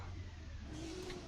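A Scania R500 truck engine roars in Euro Truck Simulator 2, a steady low rumble held throughout the short stretch with a rising tone toward the end.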